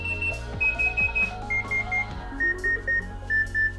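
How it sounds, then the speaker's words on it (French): ARVA EVO 5 avalanche transceiver in search mode gives off a series of short electronic beeps that repeat steadily and shift in pitch. They are clear and near, over a low mechanical hum. "on aura un signal sonore qui sera amplifié avec le rapprochement de la victime"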